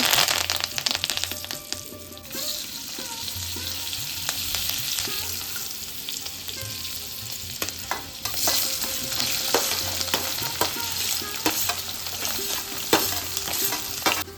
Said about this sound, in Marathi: बटाट्याच्या फोडी घालून छान फ्राय करून घेतलं